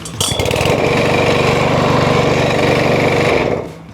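A Dnipro-M petrol lawn mower engine catches after a pull start and runs at a loud, steady, rough buzzing idle close by for about three seconds before dropping off.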